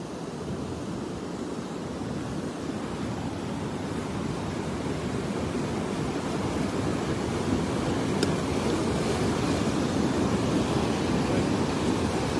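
Floodwater rushing past a bridge, a constant broad roar of flowing water mixed with wind buffeting the microphone, steady and loud for the whole stretch.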